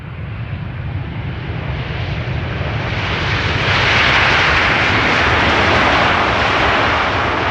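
KLM airliner in Orange Pride livery landing at Amsterdam Schiphol, a loud close engine roar with broadband rushing that swells and brightens as the jet passes, steady throughout, no voices.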